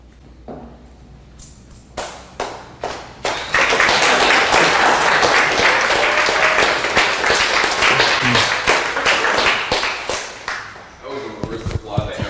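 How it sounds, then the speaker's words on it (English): Sparse, thin applause from a small audience at a Toronto free speech talk, a handful of claps swelling briefly then trailing off into scattered taps, fairly close and loud. "That was the worst applause I ever"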